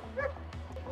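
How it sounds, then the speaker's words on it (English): A dog yips and barks in short bursts inside a car, close and fairly quiet, with soft whimpering tones between the yelps. "for her to do this with the other dog in your car barking"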